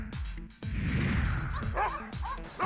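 Several young and adolescent dogs bark and yip in quick bursts during training, close by, with a short whimpering whine in between; lively and overlapping.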